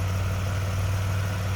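A 1986 Buick Century Limited's 3.8 liter engine idles smoothly with a steady low hum, close and even throughout, with no voices.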